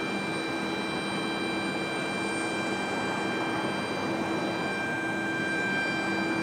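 Steady broadband roar of an airplane at Portland PDX airport, a continuous engine rumble with faint tonal whine, held at even loudness throughout without any talk.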